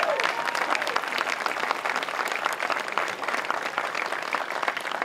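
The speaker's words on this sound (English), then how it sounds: "I think that alone deserves applause." Audience at a stage dedication ceremony breaks into sustained applause, dense and even clapping from a full room that holds steady for several seconds.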